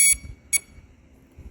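An electronic speed controller for an electric model aircraft motor gives short electronic beeps after an over-current event, two bright tones a half second apart, fairly quiet over low background rumble.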